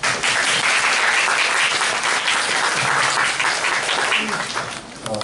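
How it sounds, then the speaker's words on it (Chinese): A lecture audience at a literary festival event breaks into sustained, dense applause to welcome the speaker, loud and even throughout before tapering slightly at the end. "再次以热烈掌声欢迎我。"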